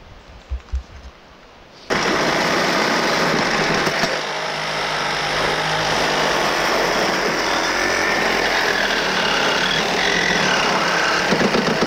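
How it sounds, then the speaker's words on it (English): An impact gun runs continuously and loudly, whirring and rattling as it works at the U-bolts on a burned RV dumped in a forest, after a brief quieter start. "We take my impact gun, we might be able to just unbolt those."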